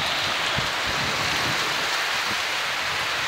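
Steady rain pours down in Paphos, Cyprus, a dense continuous hiss with occasional low thumps of drops hitting nearby surfaces, loud and close throughout with no voices.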